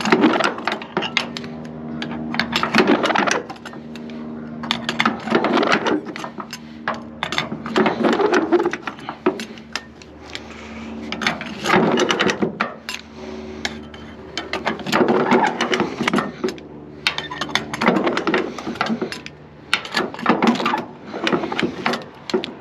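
A strap winch on a flatbed trailer is cranked by hand in repeated bursts, each turn giving clattering metallic ratchet clicks, close and fairly loud with short pauses between the rounds.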